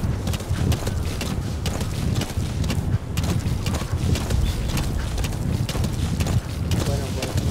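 Horse hooves clip-clopping in Metal Gear Solid V: The Phantom Pain, a steady galloping rhythm with wind rushing through the whole stretch. A voice seems to talk over it at times.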